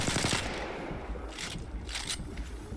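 Rapid bursts from an R-301 assault rifle in Apex Legends, a dense rattle of shots at the start, then fainter sporadic fire and crisp impacts over a constant roaring background.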